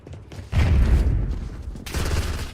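A frag grenade explodes in Warzone as a loud, rough blast with a heavy low rumble, and a second burst follows soon after it. No talking is heard over the noise.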